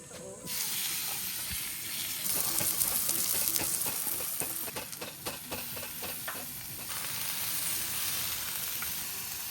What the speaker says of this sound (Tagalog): so magluluto na tayo ng steak